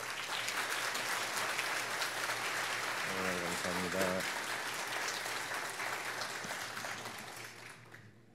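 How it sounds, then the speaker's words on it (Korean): A church congregation applauds to welcome a pastor, with steady dense clapping throughout that fades toward the end while someone speaks briefly over it in the middle. "여러분 큰 박수로 환영해 주시기 바랍니다"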